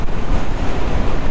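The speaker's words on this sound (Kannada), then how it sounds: "ಹೆವಿ ಕ್ರಾಸ್ ವಿಂಡ್ಸ್ ಬರ್ತಾ ಉಂಟು" Heavy crosswinds buffet a motorbike rider near Umling La at about 19,000 ft, a loud, steady roar of wind against the microphone throughout.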